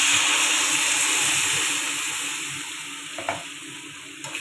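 Okra in a pan just after water is added, a loud, close, continuous hiss and sizzle that slowly fades, with a couple of short stirring scrapes near the end.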